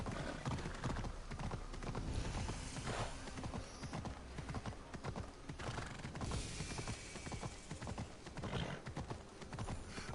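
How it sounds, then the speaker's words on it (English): Rapid hoof clip-clops from a galloping horse in a video game drum continuously at close range, with a neigh mixed in among clattering mechanical noise. "I can call my horse."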